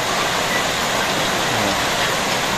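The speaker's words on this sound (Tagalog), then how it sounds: "Ang lakas po ng ulan" Heavy rain pours down steadily, a loud and dense hiss with no breaks, heard alone without talk.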